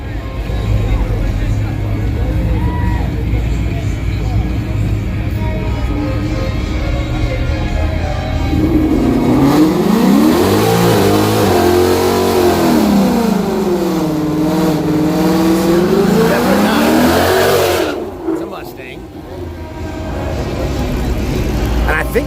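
A Dodge Hellcat revs and accelerates down the lane at Yello Belly Dragstrip, a loud, rising and falling engine note swelling midway, then cutting off, over crowd noise and talk.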